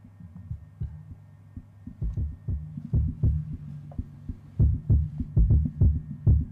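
Drum mix with the kick run through op-amp saturation: repeated thick, punchy low thumps in a steady groove, building denser and louder toward the end, no voices.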